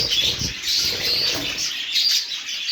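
Pet budgerigars, a mottled male and a spangle female, chirping and twittering steadily close by, with a flurry of wing flapping near the start.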